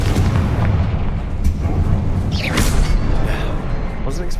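Confringo fire spell blasts in the video game Hogwarts Legacy: dense, continuous booming and crackling explosions with rumbling low end, loud and close, overlapping with no clear pauses.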